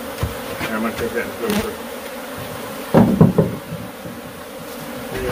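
A swarm of Africanized killer bees buzzes steadily inside an old shed hive, with a burst of louder activity and knocking near the middle and brief talk in the background.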